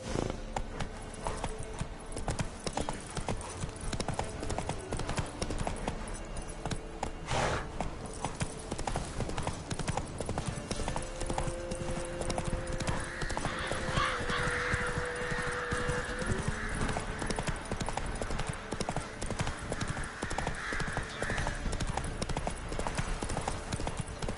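Hooves of a horse clip-clop steadily in The Witcher 3 video game, a continuous rhythmic trot running the whole time under in-game ambience and occasional speech.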